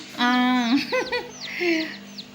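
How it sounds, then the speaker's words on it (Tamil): A black hen with her newly hatched chicks: bright, close peeping calls and a few clucking notes in short bursts with gaps between, with no talking. "எங்கள் கருப்பி கோழி குஞ்சு பொறிச்சிருக்குங்க"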